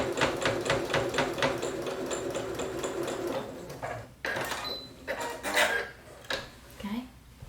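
A sewing machine stitches a 45-degree angle across the corner of an hourglass quilt in a steady, rapid run of needle strokes, then stops; a few short bursts and handling noises follow, with no talk.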